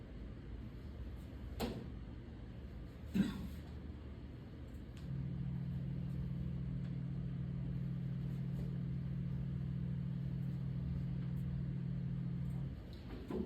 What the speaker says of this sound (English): So the 40 hertz sound sounds like this.